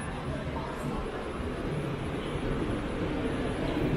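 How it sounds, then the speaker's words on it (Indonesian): Ambience inside an LRT/MRT train station: a continuous low rumbling hum with a broad wash of noise, steady and moderately loud throughout, with no distinct events standing out. "Ini suasana stasiunnya."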